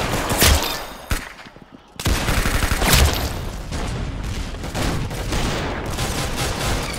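Gunfire in the Roblox Arsenal video game: loud, rapid volleys of shots, a brief lull, then dense continuous firing through to the end.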